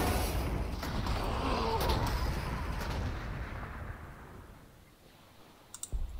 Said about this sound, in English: And artillery.